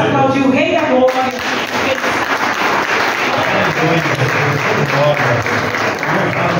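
A church congregation at a worship service breaks into sustained applause, a dense, loud wash of many hands clapping together, with voices mixed in as the clapping continues.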